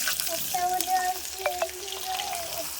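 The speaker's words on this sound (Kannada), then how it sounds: "ಸಾಸಿವೆ ಚಟಪಟ ಅಂತ ಸಿಡಿಬೇಕವ್ರಿ" Mustard seeds crackle and splutter in hot oil for a breakfast dish, sharp scattered pops and sizzles close by, with soft speech in the background.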